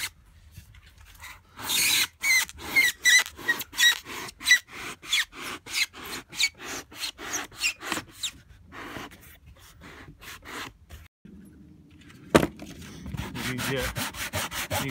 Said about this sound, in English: So we're going to cut that angle.